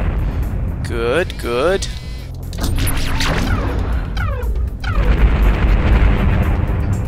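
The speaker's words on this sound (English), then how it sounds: "Ooh, those missiles really helped out." Heavy booming missile explosions from a Space Rangers 2 space battle, several loud crashing blasts in quick succession, with someone talking excitedly over and between them.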